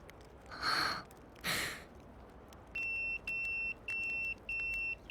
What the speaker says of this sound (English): Le beeper. It's from the Elder of Little Asia.